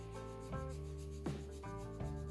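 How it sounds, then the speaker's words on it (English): A dry brush rubs across paper while drawing hair, soft close brushing strokes in a few short passes over a steady low hum. "I'm gonna use again dry brush"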